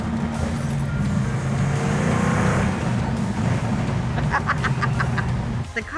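A Plymouth Road Runner engine roars under hard acceleration, a loud, sustained low rumble that swells mid-way and holds steady, with brief higher squeaky sounds near the end.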